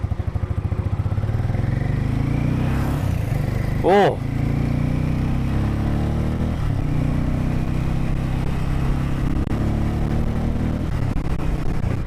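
A 440T motorcycle engine rumbles steadily and close during a test ride, with a brief vocal exclamation partway through.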